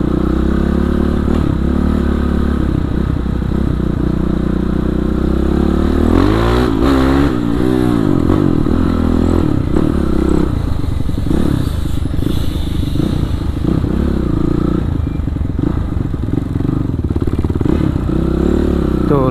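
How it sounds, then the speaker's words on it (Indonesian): A Kawasaki KLX motorcycle with a 450cc bore-up engine, ridden on city streets in Bandung, revs loudly and continuously, its engine note rising and falling with throttle blips throughout. "Motornya sendiri yang minta digeber teh."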